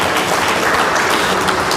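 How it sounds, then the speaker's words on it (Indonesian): An audience applauds at an event launching a product directory platform for small businesses, with dense, continuous clapping that fills the short stretch at a fairly loud level. "Tepuk tangan untuk Dr. kami."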